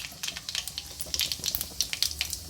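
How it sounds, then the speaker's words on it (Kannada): Mustard seeds crackle and pop in hot oil with cumin already added, a dense run of sharp high spatters over a soft steady sizzle, close and moderately loud, no voices. "ಎಣ್ಣೆ ಕಾದೈತಿ ಸಾಸ್ಮಿ ಹಾಕ್ತೇನೆ"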